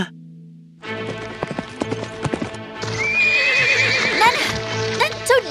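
A princess's horse neighs loudly and close, alone, with a sharp whinny followed by steady, rhythmic hoofbeats on the ground, set against a quiet musical backdrop.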